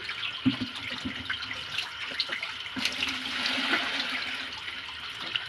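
Water poured or running in a domestic setting, a continuous hissing splash like a tap or filling vessel that stays fairly steady and close throughout, with only faint background sounds.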